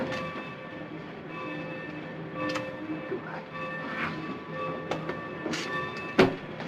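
A steam train stands at a station as passengers board, its steady mechanical hum and rumble running throughout, with a sharp hiss or clank near the end and voices talking faintly over it.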